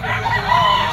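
Young gamecock stag at a pet market giving a brief, close, strained crow.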